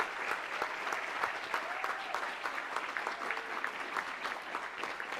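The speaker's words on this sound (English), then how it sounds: "let's give another round of applause to these wonderful innovators." Conference audience at a climate-focused event applauding, a dense continuous patter of many hands clapping, moderately loud and even across the whole stretch, with faint crowd murmur underneath.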